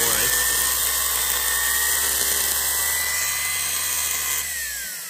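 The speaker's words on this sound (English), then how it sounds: "That's powerful, that motor. Look at when it starts." A small electric motor salvaged from a T-72 tank model, freshly lubricated with WD-40, runs at a steady high-pitched whine with no break for about four seconds, then winds down at the end.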